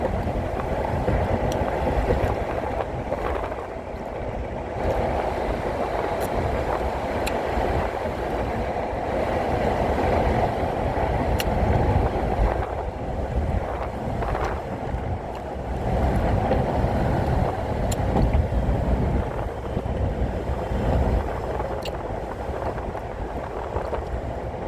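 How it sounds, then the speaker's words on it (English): Strong wind buffets steadily for the whole stretch, a loud broadband rumble that swells and eases in gusts, with faint clicks and no clear talk. "Quite windy, huh?"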